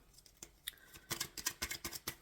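Tarot cards being shuffled by hand, a run of quick, crisp riffling and snapping bursts that grow denser toward the end, close and fairly quiet with no talking.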